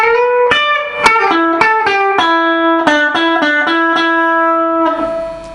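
Distorted electric guitar playing a fast lick with slides and pull-offs, a run of quick picked notes with bends and gliding pitch changes, loud and close, ending on a sustained note.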